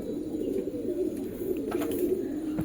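A blue pigeon coos softly and steadily, close by and fairly quiet, with a low murmuring tone throughout.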